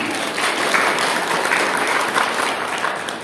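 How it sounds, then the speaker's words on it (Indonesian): Sustained audience applause at a celebration of the Prophet Muhammad's birth, a steady blur of many hands clapping at moderate volume with a faint crowd murmur underneath. "Tepuk tangan untuk kita semua."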